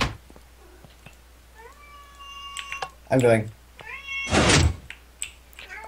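A cat meows several times in drawn-out, wavering cries, mixed with a couple of sharp thumps and loud nearby speech from a man.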